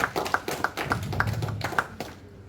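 Applause at a cricket club presentation evening held at a Hindu temple in Derby; a small group claps in a loose, uneven patter of sharp close hand claps for about two seconds, then fades out.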